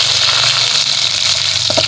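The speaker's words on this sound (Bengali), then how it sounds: "এই যে পেঁয়াজ ভাজি" Onions fry in a wok with a steady, loud sizzle and a faint clink near the end, heard up close with no talk.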